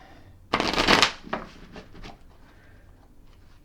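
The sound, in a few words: shuffling new tarot card decks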